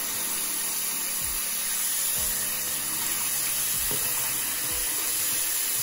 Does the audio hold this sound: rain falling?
no